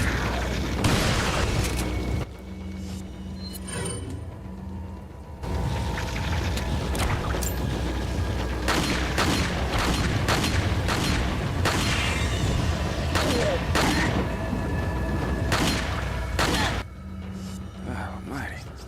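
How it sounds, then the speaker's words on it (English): Heavy booming shotgun blasts in Resident Evil 4 on GameCube, several loud broadband shots spaced irregularly over a steady background drone, with a player talking intermittently. "Good old shotgun. Nothing beats that."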